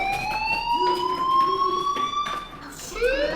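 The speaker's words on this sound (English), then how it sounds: "Hey, do you hear that fire alarm?" A fire alarm in the Life is Strange video game wails with a long rising siren-like tone that repeats, loud and close, under faint background sounds and no talk.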